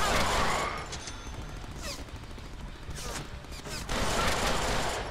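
Many enemies fire rapid gunfire in the Deadpool video game, a dense, noisy barrage of shots and crashes that swells, dips, then surges again, with a voice talking faintly in the mix.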